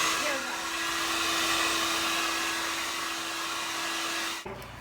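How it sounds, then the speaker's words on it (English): A hair dryer blows with a steady, loud whine, then cuts off abruptly near the end. "Now we're going to take this over to a hair dryer"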